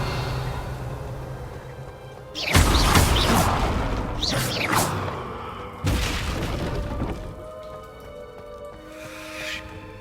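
The Confringo blasting spell goes off in Hogwarts Legacy, with two sharp explosive bursts a few seconds apart, each followed by crackling, shattering debris, over quieter ambient game sound.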